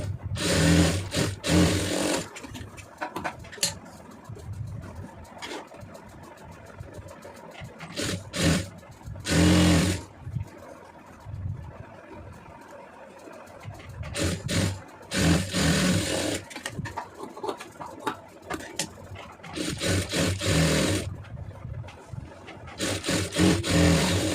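A sewing machine stitches a blouse in repeated bursts of rapid mechanical whirring, several seconds each, separated by quieter pauses with handling of fabric, close and clear without speech.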